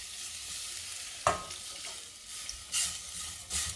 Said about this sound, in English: I'll start adding this in and adding it little by little and stirring it as we go